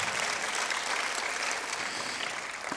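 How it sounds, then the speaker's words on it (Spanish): A church congregation claps steadily together throughout, a dense, even patter of applause with no voices over it. "Denle un aplauso al Señor."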